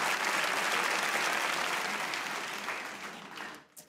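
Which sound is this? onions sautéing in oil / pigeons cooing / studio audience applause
studio audience applause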